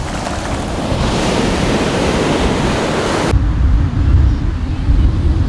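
Ocean surf washes onto a beach in a loud, continuous roar of breaking waves and foam, with a sudden shift to deeper, rumbling water partway through.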